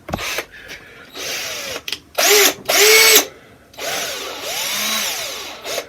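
A power drill whines in several short bursts while boring a pilot hole for a homemade anchor stake, its motor pitch rising and falling with each trigger pull, close and loud with brief pauses between.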